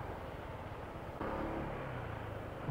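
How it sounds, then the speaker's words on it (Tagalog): Steady rumble of road traffic stuck in a long jam near a bridge under construction, with a continuous engine drone that thickens midway as a nearby vehicle's low idle joins in, no talk. "Ay, ang haba ng traffic mga master."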